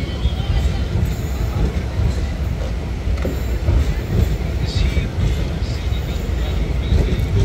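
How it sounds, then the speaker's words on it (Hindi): Ranakpur Express, the Bikaner–Dadar superfast, rumbles past at Nagaur station in Rajasthan, a steady loud roll of wheels and carriages with faint squeals throughout. "Ranakpur express Bikaner Dadar super fast जो कि बीकानेर से रवाना होते हुए जा रही है दादर को"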